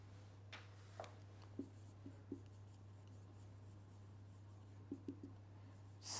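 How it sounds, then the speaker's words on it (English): Pen strokes scratch faintly on paper in short, sparse bursts, several quick marks separated by pauses, over a steady low electrical hum in a quiet room. "let me write it down here"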